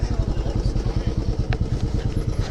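A motorcycle engine idles with a steady low throb as the bike is parked near Murudeshwar temple, close and continuous with a faint clatter.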